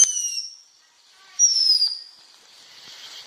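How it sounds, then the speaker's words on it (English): Fireworks being set off at home, heard as two high whistling, downward-gliding screams with a faint crackling hiss trailing off between and after them; no talking. "my dad is about to start some of the fireworks"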